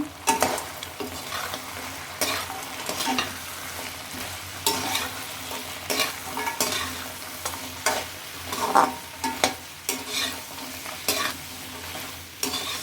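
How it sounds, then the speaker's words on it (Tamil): Fried idli is tossed in sauce in a pan, giving a low, constant sizzle broken by frequent scraping and clinking strokes of a spoon, some louder than others, close by and with no voices. "இப்போ வந்து இட்லியை சேர்த்துக்கலாம் பொரிச்சு வச்சுருக்கிறது."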